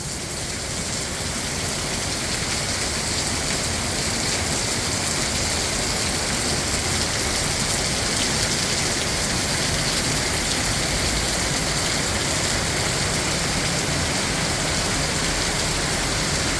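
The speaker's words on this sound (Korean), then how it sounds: "비가 너무 많이 와가지고 지금 집에를 못 가고 있어요" Heavy rain pours steadily in a city park, a dense, unbroken hiss of drops striking the ground and surfaces, loud and close throughout with no voices.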